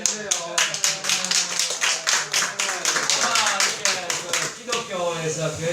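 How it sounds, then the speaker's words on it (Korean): Congregation applauding at a Korean church baptism gathering, a lively burst of many hands clapping in a fast, uneven rhythm while a voice talks over it. "우리가 박수 한번 주세요"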